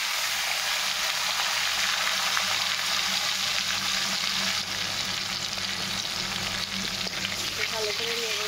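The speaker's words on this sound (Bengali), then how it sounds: "ভালো করে নেড়ে নেব টমেটোটা" Tomatoes sizzle loudly in hot oil tempered with bay leaf, a dense continuous frying hiss with occasional stirring scrapes, close and steady throughout, no talk.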